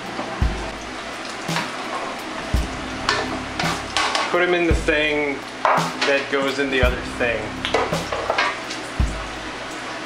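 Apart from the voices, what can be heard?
French fries frying in oil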